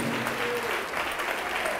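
A church congregation claps steadily during a televised evangelical service, a dense, continuous wash of applause that fills the space without pause and stays loud throughout.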